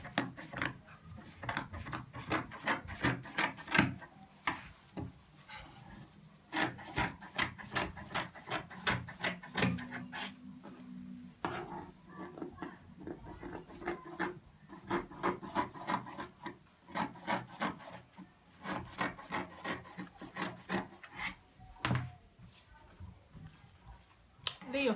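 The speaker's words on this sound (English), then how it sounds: "cutting the front and the back together" Scissors cut through Ankara cotton fabric with the front and back layers together, a close run of repeated crisp snips and rasping slides, quiet and steady with brief pauses.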